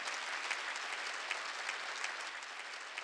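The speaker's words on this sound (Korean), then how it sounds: "하나님이 내가 졌다고 얘기하면 박수 치라야 돼" Steady applause from a church congregation during a worship service, dense and sustained across the whole stretch with a few sharper claps standing out, moderately loud and without talk over it.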